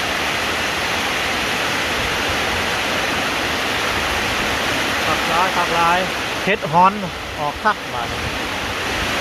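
Strong storm wind roars steadily past a rural home in Thailand, a dense, broad rushing noise that runs throughout, with someone briefly speaking over it near the end.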